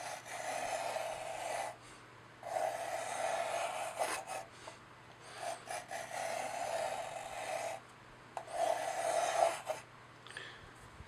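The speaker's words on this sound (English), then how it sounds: "We go back and cut another 5/1000 out." An Isky 100-GRM O-ring tool cuts a groove into a 4G63 engine block: a soft, steady rasping scrape runs in several separate passes of about two seconds each, close up, with brief pauses between them.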